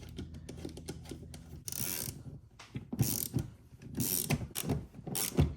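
A ratchet clicks in quick bursts as a bolt is tightened on the clutch master cylinder of a BMW E36 during a manual swap, close up, with short pauses between runs of rapid clicking.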